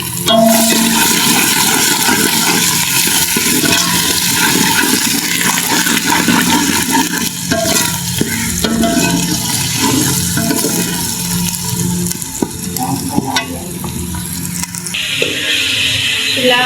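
Ginger-garlic paste sizzles in a cooking pot, a loud steady hiss and spatter of frying that runs unbroken throughout.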